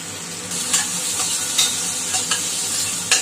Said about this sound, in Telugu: అది వేగిన తర్వాత అందులోకి ఎర్రగడ్డలు వేసుకోవాలి.